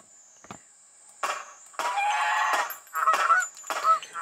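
Geese honk in a hunting video game, several loud nasal honks coming in irregular bursts, some overlapping, over a faint steady high tone.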